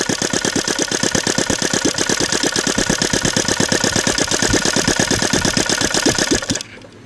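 A Saito FA220 glow model airplane engine fitted with CH ignition idles steadily and close up, a fast, even chugging pulse that runs loud and unbroken for about six seconds before cutting out abruptly near the end.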